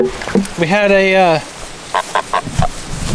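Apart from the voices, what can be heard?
geese chasing each other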